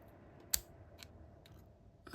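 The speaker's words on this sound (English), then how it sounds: "These are great scissors. They have no problem cutting through the braid." Scissors snipping through braided fishing line while rigging a carp bait, a few crisp close snips with faint clicks in between, quiet surroundings.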